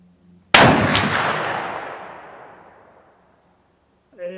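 A single loud Savage 220 rifle shot fired while sighting in the scope, sharp crack followed by a long rolling echo fading over about two seconds, then a brief voice at the end.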